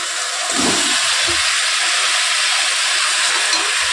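Cauliflower and potato pieces fry in a cooked-down spice paste for a Bengali cauliflower and rohu fish curry, giving a steady, loud, broadband hiss with a few low thuds near the start as the vegetables go in.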